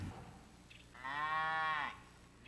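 Cows on an organic dairy farm moo once in a long, loud, close bellow lasting about a second, alone over faint outdoor background.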